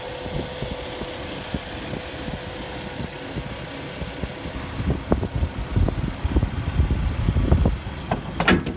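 A 2005 Jeep Wrangler Unlimited with a 4.0 straight-six engine idles steadily nearby, a low rumbling drone with a few faint clicks and knocks toward the end, and no talking.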